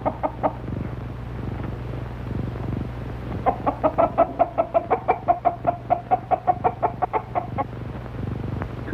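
Hens cluck in a steady run of short, close, rhythmic calls over a low constant hum, in an old comedy drama musical film, with quieter clucks before and after the main burst.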